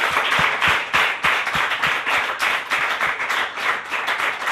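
An audience applauds for the captain at a talent and awards showcase event, steady dense clapping filling the room with a few louder individual claps standing out throughout.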